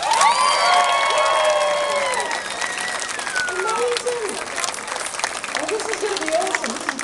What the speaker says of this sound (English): with a nice round of applause.